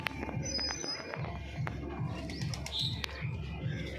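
Young Giribaz pigeon chicks coo softly in a rhythmic, low repeating pattern inside a loft, with faint chirps and rustling close by.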